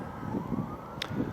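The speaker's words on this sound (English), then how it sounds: "That siren that just drove past" Emergency vehicle siren passing by, a faint rising wail heard at a distance beneath low background rumble and traffic noise.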